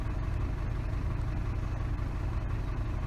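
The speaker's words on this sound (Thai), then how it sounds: "ฟังเสียงเครื่องยนต์ทำงาน" A car engine idles steadily during an air conditioner repair, a loud continuous low rumble with a faint regular pulse and no talking.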